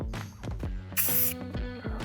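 Spray paint hissing onto the ground to mark out a pool dig, one loud burst of about a third of a second over rhythmic mechanical clatter and machinery hum.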